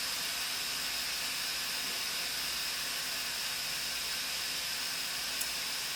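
Steam hisses steadily from the release valve of an Instant Pot Duo Evo Plus pressure cooker, a continuous close, even rush of broadband noise with no voices over it.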